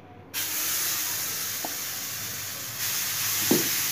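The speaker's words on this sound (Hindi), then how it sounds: "जब घी अच्छे से हो जाए उसके बाद आप इस बैटर को डालिए इस पे" Sweet cheela batter hits hot ghee in a pan and sets off a sudden loud, steady sizzling hiss that continues throughout. A couple of faint utensil clicks sound nearby, with no talk.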